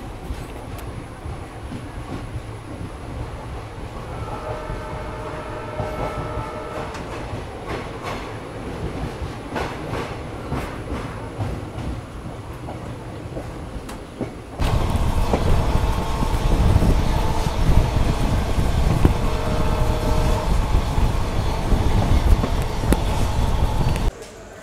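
Vijayapura to Mangalore train 07377 rolls along after leaving Mallapura station, a steady rumble of wheels and carriages that grows noticeably louder and heavier partway through.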